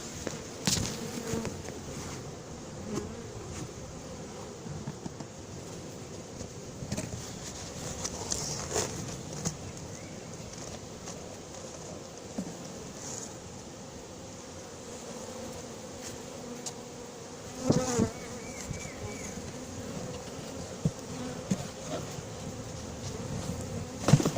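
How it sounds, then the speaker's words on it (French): Continuous buzzing of a honeybee swarm being moved from a cardboard box into a hive, a dense humming drone close by, with occasional rustling and soft handling noises. "Il reste des abeilles dans le carton, je vais les mettre."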